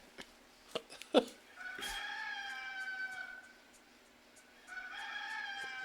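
A rooster crows in a wrestler's entrance theme for the Red Rooster, two drawn-out cock-a-doodle-doo calls after a few sharp opening clicks and knocks, moderately loud with a brief pause between them.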